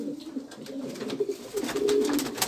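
Pigeons coo softly and repeatedly at close range in a home loft, low rolling calls spread through the few seconds with no talk.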